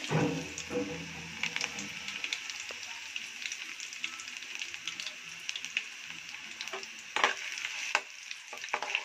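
Mustard seeds and chopped garlic sizzle in hot oil for tomato pickle, a steady crackling fry with scattered pops and light stirring scrapes, close and fairly quiet.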